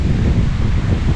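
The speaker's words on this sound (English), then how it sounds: "It's crazy windy." Strong wind gusts outdoors on a rooftop beside solar panels, a steady loud low roar buffeting the microphone with no let-up.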